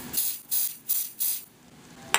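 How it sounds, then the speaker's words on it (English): An aerosol spray used on a natural nail repair hisses in four short, quiet bursts at an even rhythm, close by, ending with a faint click. "Okay, and then I'm going to spray."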